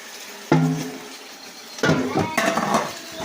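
Water is dumped into a kitchen sink in two splashing pours with a metallic clatter of dishes, the second longer and rougher, over faint room noise.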